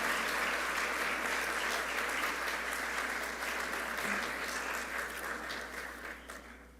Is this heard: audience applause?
yes